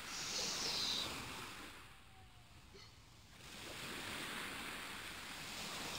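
Ocean surf in the Final Fantasy 4 video game, a continuous wash of rolling waves that swells, dips midway, then builds again, with windy noise and no voices.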